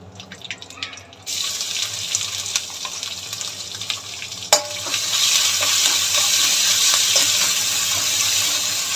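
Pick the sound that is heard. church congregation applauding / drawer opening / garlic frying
garlic frying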